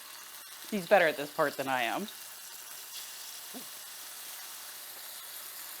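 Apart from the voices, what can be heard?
tofu frying in pan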